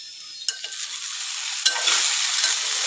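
Okra sizzles and fries in a hot pan with a spoon of oil while being stirred, a steady hiss that swells toward the end, marked by a couple of sharp scraping clicks from the stirring utensil.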